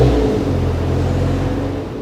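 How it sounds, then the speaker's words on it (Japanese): Engine of a one-owner Toyota Chaser JZX100 Tourer V with a five-speed manual, idling with a steady close rumble after starting, alone throughout. "じゃあエンジンかけちゃいますね"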